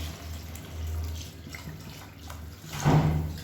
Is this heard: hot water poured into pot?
yes